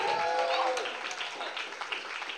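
Audience at a live spoken-word poetry show applauding and clapping, a steady wash of claps filling the room while a voice talks over it.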